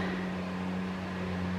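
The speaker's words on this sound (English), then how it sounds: "that sound you hear is a mower trying to come up that hill" A lawn mower engine labours up a hill, a steady low droning hum with a constant tonal buzz running continuously at moderate, fairly distant level with no voices.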